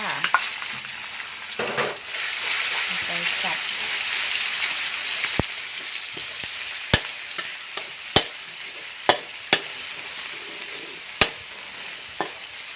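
Continuous loud sizzling of chicken stir-frying in a wok, with brief voice at the start and repeated sharp spatula scrapes and clanks at irregular intervals.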